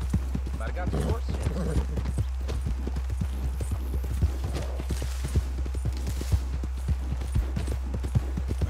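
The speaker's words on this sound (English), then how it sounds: "I don't know why the horse was slowing down" Horse hooves clip-clop at a steady gallop in Red Dead Redemption 2, a fast regular rhythm of soft thuds under a constant low hum and someone talking.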